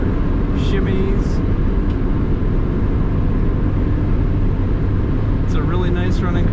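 A 1999 Mazda MX-5 Miata cruising at 55 mph on a straight road, with a steady, loud low engine and road drone inside the cabin, light wind noise and a few brief higher whines over the constant rumble.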